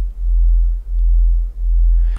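A plain sine wave from the Phase Plant synth with unison on and smooth detune around 69%, a low, pure humming tone that swells and dips in three slow, even pulses, alone and fairly soft.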